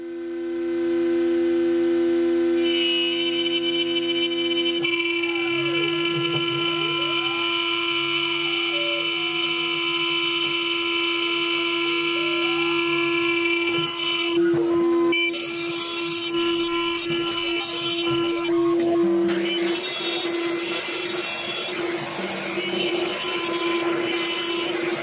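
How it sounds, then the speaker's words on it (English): A CNC router spindle, sped up by about 3000 RPM, routes a 12mm Perspex sheet with a constant high, steady motor whine. Harsher, rougher cutting noise builds in the final seconds, and no one talks. "Just increased the rotation of the spindle by about 3000 RPM, and it looks like the chips are coming out a lot cleaner"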